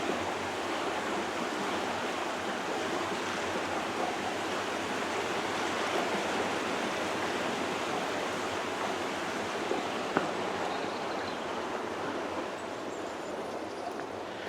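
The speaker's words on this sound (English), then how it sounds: "look how much extra water is now flowing" River water rushes steadily through Iden Lock sluice on the River Rother, a constant even roar of flowing water with no breaks.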